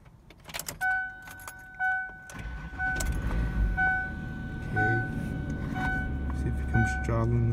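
A car is started from inside: keys jangle and steady electronic chime tones sound, then a low engine rumble rises and keeps idling close by.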